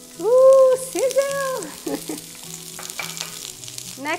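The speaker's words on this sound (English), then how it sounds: "my skillet is already pretty warm, so I'm gonna go ahead and add to it some red onion. Ooh, sizzle!" Red onion sizzles as it hits warm olive oil in a hot skillet, a crackling fry that flares loudly at first and then settles, with a brief voice briefly heard over it.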